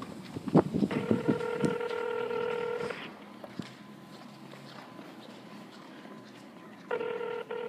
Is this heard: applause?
no